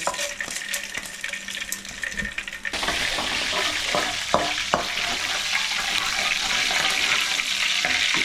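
Cinnamon, cloves and black pepper sizzle in hot oil for a palak chicken dish, a quiet crackle that jumps to a loud, steady hiss as the spices hit the pan, with a few light clinks.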